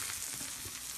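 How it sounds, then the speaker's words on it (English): Steady, dense sizzling of a chicken cutlet frying in a hot cast iron pan, loud and close, with no talking. "You hear that sizzle?"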